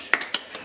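A few sharp, close hand claps ring out in a room, two or three quick bright smacks within a split second, fairly loud against a quiet background with no talking.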